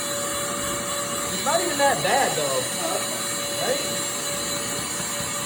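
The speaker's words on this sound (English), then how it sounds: "now I'm gonna vacuum out the air filter." A vacuum cleaner drones steadily and loudly throughout while cleaning the air filter of a 1984 Honda Goldwing 1200 motorcycle, with a person talking briefly over the constant whine.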